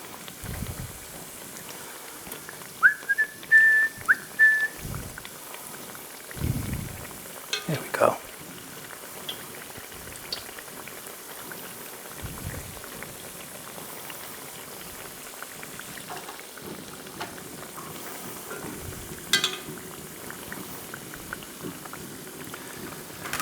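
S-shaped churros fry in hot oil for a Disney World-style recipe, giving a steady, fairly quiet bubbling sizzle with a few sharper knocks and thumps scattered through.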